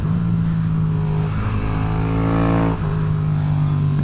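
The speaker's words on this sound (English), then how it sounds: "Oh my god, a Supra! Holy crap. Big ol' wing on that thing." A Toyota Supra with a big rear wing revs up loudly nearby, its engine note climbing over about a second and dropping back to a steady droning idle.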